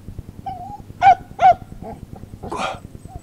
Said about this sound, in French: Mon chien.